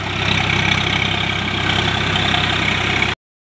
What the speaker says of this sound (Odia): ସ୍ୱରାଜ 744 FP ର ଭଲ ଟ୍ରାକ୍ଟର, ପାୱାରଫୁଲ ଟ୍ରାକ୍ଟର।